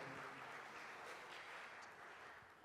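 Audience applause at a university career fair panel, a steady broadband wash of clapping sustained throughout, slightly tapering near the end, with no talk over it.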